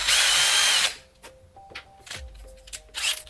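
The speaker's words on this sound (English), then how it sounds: "Careful, because you do not want to drill your fingers." A power drill bores into a Tusken Raider mask face plate in a short loud burst, then stops. Short whirring spurts and handling clatter follow, close up, with no talking.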